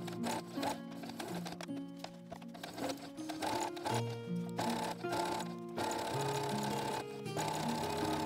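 A sewing machine stitches a lining onto an embroidered collar for an elven-style vest, running in close, rapid mechanical bursts with short pauses and changes in speed.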